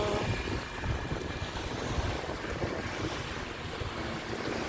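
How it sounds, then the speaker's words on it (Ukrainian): Waves washing onto a beach with strong wind buffeting the microphone, a dense continuous roar of surf close by with no voices. "Весь час тут були на пляжі."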